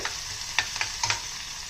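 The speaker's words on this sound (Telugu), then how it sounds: "ఇప్పుడు దీంట్లో మనం ముందుగా కట్ చేసి కొట్టుకున్న ఉల్లిపాయ ముక్కల్ని దీంట్లో వేసేద్దాం. లైట్గా ఉప్పు యాడ్ చేస్తే తొందరగా ఫ్రై అవుతుంది." Chopped onions, lightly salted, fry in hot oil in a pan with a steady close sizzle and a few soft stirring scrapes, no voices over it.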